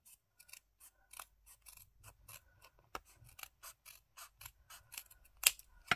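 Scissors snipping through paper for a Christmas scrapbook collage card, a quick, uneven run of crisp, close snips and blade clicks, fairly quiet, with no talking.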